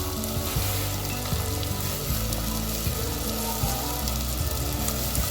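Chopped radish and radish leaves sizzle steadily in a hot pan, a dense, continuous fry with light stirring noises and no talk.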